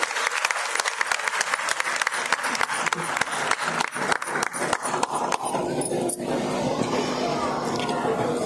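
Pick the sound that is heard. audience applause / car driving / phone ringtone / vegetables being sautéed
audience applause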